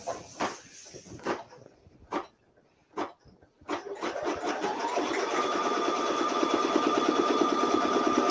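Embroidery machine stitching an in-the-hoop pencil zipper bag, starting with a few separate clicks and knocks and then settling into a steady, close humming whir of rapid stitching that continues to the end.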